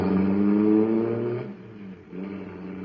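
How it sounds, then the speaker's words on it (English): Supercharged car engine from a radio drama sound effect, a steady roaring drone that swells loudly through the first half, dips briefly, then resumes, with no talk over it. "Boy, that cosmic surface car is really roaring."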